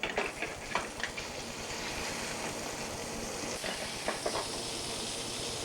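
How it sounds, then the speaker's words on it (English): Steaks sear in an already hot pan, giving a continuous moderate hiss and sizzle with a few scraping bursts early on, as if the pan were shaken. "I've got the pan already hot, add the steaks to the pan."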